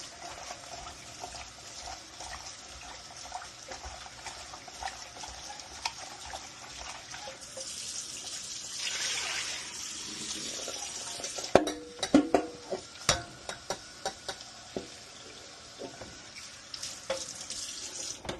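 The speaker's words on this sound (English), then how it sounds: "Do rinse them off. Cold water." Running cold tap water splashes steadily as okra is rinsed under it, with a few sharp clinks and knocks of produce or a pan near the end.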